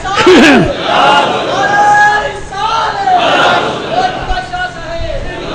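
A crowd at a religious gathering shouts a slogan in loud, rising, chant-like calls, with several bursts of massed voices swelling and fading, close and energetic.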